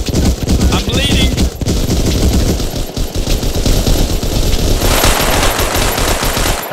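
Loud, dense gunfire in the World War II shooter Hell Let Loose: rapid machine-gun bursts and overlapping rifle shots rattle almost nonstop, close and distant, with someone shouting over the battle.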